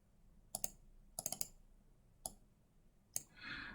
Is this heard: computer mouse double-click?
yes